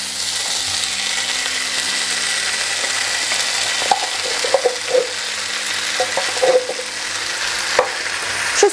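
Steady loud sizzling of vegetables, canned corn and red beans frying in a pan, with scattered scraping and clinking as a utensil stirs them.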